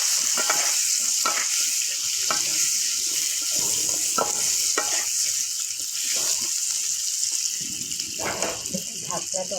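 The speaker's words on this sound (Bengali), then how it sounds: "আমার আলু ভাজা হয়ে গেছে, আমি এখন উঠিয়ে নেব।" Potatoes fry in hot oil while a Bengali katla fish curry is being cooked, a loud, continuous sizzle close up with repeated scraping stirs breaking through in a loose rhythm.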